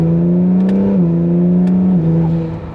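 An Acura NSX Type-S engine drones loudly from inside the car, its pitch stepping down sharply twice as the 9-speed dual-clutch gearbox makes quick downshifts, with a brief blip at each change.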